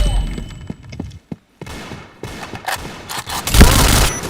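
Gunfire in the Point Blank video game: bursts of rapid shots and thuds, loud and close, with a brief gap of silence then heavier firing building toward the end, a player's voice faintly underneath.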